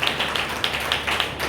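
A congregation at a Good Friday church service claps loudly and rhythmically, a steady run of close, sharp bursts repeating at an even pace.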